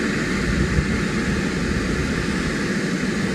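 Indonesian presidential airplane arriving at Halim Perdana Kusuma airbase in Jakarta, a steady, moderately loud jet engine drone with an even, continuous whine and no pauses.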